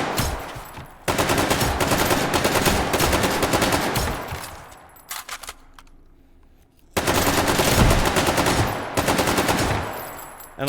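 Nearly continuous automatic gunfire in the VR shooter H3VR, loud sustained bursts of rapid shots broken by a short lull around the middle before firing resumes.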